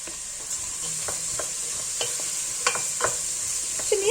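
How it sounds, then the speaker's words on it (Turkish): Chopped zucchini and leek sizzle steadily in a hot pan for a vegetable soup, with a constant hiss and occasional scraping clicks of stirring close by. "Yaklaşık bir 3-4 dakika kadar da bu sebzelerimi kavuruyorum."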